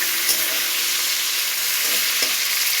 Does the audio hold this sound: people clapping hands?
no